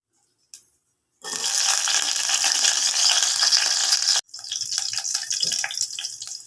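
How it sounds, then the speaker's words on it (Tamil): Mustard seeds and garlic frying in hot oil inside a pressure cooker, a loud, dense crackling sizzle that starts abruptly after a brief tap, cuts out for an instant, then resumes close by. "குக்கரில் எண்ணெய் ஊற்றி கடுகு போட்டுட்டு"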